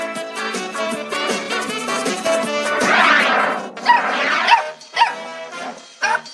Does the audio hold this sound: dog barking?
yes